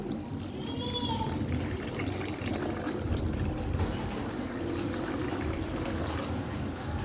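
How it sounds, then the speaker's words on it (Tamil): Tamarind water pours steadily into a pot of boiling garlic curry, a continuous rushing, bubbling wash of water sound that stays close and even throughout. "இப்போ வந்து நம்ம புளி தண்ணி சேர்த்துக்கலாம்"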